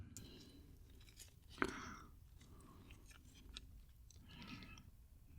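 Someone eating boneless fried chicken dipped in tartar sauce: quiet, close chewing with soft, wet mouth sounds and one sharp crunchy bite near the start, continuing gently throughout.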